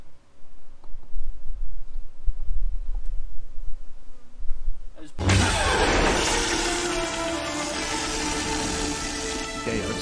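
Honey bees buzz in a dense, loud swarm at an opened hive during an oxalic acid varroa mite treatment, following quieter scattered buzzing and handling noises, with talk faintly underneath.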